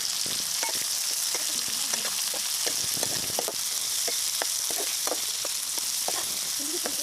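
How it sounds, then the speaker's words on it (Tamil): Green chillies, tomatoes and onions sautéing together in a pan, with a loud continuous hiss of frying and quick, irregular scraping stirs throughout. "மிளகா, தக்காளி, வெங்காயம் இது மூணுத்தையும் ஒன்றா போட்டுக்கலாம். வதக்கிட்டுக்கலாம்."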